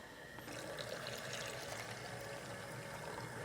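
Water pours steadily into a vessel holding 30 grams of rabbit skin glue for traditional gesso, a continuous close splashing fill lasting about three seconds with no talking.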